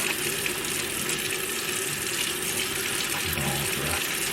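Tap water runs steadily into a sink as a spatula is washed with soap, a continuous broadband hiss with some low clatter near the end.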